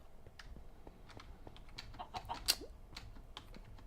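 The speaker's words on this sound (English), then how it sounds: "Kill some chickens." Chickens cluck in the Minecraft video game, a series of short, scattered clucks rising from the background over several seconds, with one sharper peak near the middle, fairly faint and with no talking.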